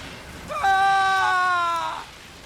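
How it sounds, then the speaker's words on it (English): A man screaming in pain under Sith torture in Star Wars: The Old Republic, one sustained, strained, tonal cry lasting over a second, loud and close, with no other voices over it. "Scream, weakling. I want to hear your suffering."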